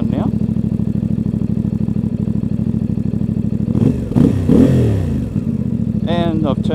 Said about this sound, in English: now the bike's running, you hear that exhaust sound